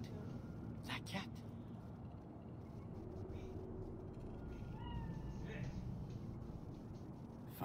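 A cat meows a few times in a video game set in Night City, short mewing calls heard over city ambience while people talk.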